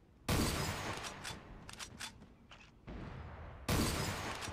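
Gunfire from the video game Creative Destruction: several loud bursts of rapid shots, with a sharp heavy volley at the start and another near the end, separated by shorter cracks and broken crackling.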